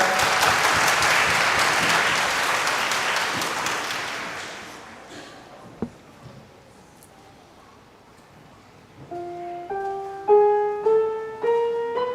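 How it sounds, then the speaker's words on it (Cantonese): Audience applause at a children's choir Christmas concert, a dense burst of clapping that fades out over several seconds, followed by separate sustained piano-like tones starting near the end. "我哋俾啲掌聲鼓勵佢哋加油"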